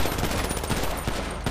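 Video game gunfire fills a brief burst of rapid, closely spaced shots that sound like automatic fire, loud and near.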